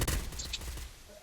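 A quick burst of gunfire from a Free Fire or PUBG Mobile match, several sharp shots bunched at the start and then trailing off, with voices talking over the game.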